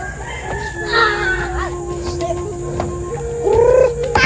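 Chickens clucking and crowing nearby, with a rooster's call and overlapping bird calls, getting louder toward the end.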